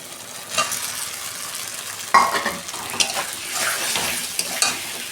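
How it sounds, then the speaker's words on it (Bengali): Oily sizzling in a pan as fried potatoes are stirred into the spice paste for a fish curry, with scraping and clinking of a spoon against the pot; no talking. "আমি ভাজা আলুগুলো দিয়ে দিচ্ছি"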